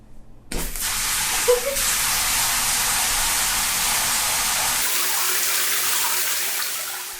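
A bathtub in Japan filling from the tap: water gushes in abruptly and keeps up a loud, steady rushing stream that settles into an even hiss.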